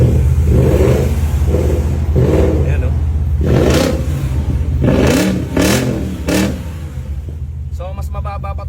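Modified car with a loud, aggressive engine revving in several sharp bursts near the end, preceded by steady rumbling idle, with someone talking over the engine noise.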